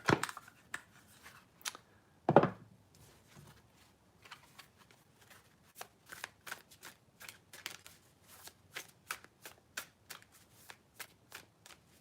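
Oracle or tarot cards are shuffled for a card pull, with two louder riffles near the start followed by a long run of soft, quick slaps and flicks in a quiet room.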